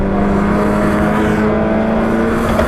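Stock hatchback race cars howl past at Cadwell Park, a loud sustained engine note holding a steady tone as the cars run close together through the circuit.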